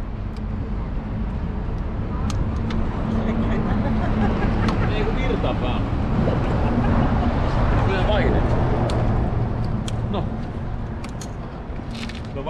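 Motorbike engine running close by, a continuous loud rough drone that swells slightly in the middle and eases near the end, with voices chatting over it.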